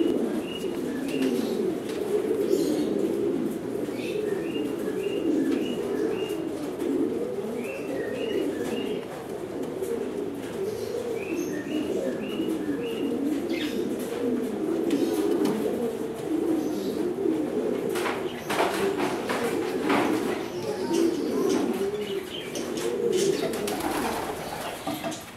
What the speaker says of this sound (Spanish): aquí es donde crío paloma yo